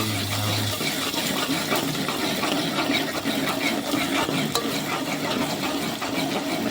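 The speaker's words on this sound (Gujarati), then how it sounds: "થોડીક હલકા હલાવતા રહેવી ગરમ થાય ત્યાં સુધી" Potato and spinach curry, thinned with water and a few rice grains, stirred lightly in a pan as it heats, making a continuous close bubbling and scraping.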